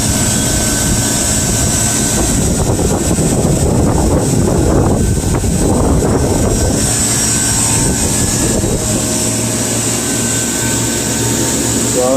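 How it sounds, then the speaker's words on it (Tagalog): A walk-in chiller's outdoor condensing unit runs nearby with a loud, continuous mechanical drone and fan rush, holding steady with no speech. "tuloy-tuloy naman ang andar ng outdoor unit natin"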